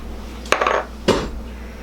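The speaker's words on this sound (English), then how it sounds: "Now I'm whisking the 2 pinches of salt, the 6 tablespoons of sugar" Metal whisk clinking against a bowl while mixing two pinches of salt and six tablespoons of sugar for a blueberry cobbler batter, two distinct close scraping clatters about half a second apart.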